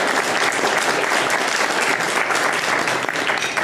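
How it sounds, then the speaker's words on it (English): Audience applause at an SPE Astana Section engineering event: dense, steady clapping from many hands fills the whole stretch at close range with no voices over it. "please give a round of applause to these wonderful people"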